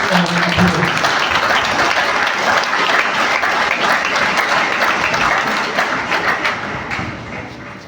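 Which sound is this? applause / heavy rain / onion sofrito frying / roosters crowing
applause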